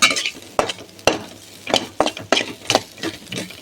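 Grated coconut for sweet samosa filling being stirred and dry-roasted golden in a pan over low heat, with a spatula scraping and clinking against metal in uneven strokes, close and fairly quiet.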